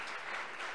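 Audience applause at a Women in Data Science event, a dense, steady patter of many hands clapping together, fairly quiet and even throughout this short burst.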